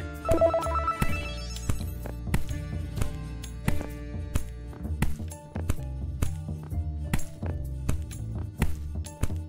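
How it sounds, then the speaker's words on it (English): A bright bell-like ringing tone from a bump in a carpet in a PC adventure game sounds over repeated clinking, clanking hits and a low droning game soundtrack. "This ringing bump in the carpet is weird."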